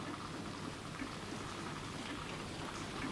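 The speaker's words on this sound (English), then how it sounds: "Yes, it still rains." Steady rain falls outside a period English house in a 1972 BBC drama, a soft continuous hiss of drops on surfaces heard alone at low volume.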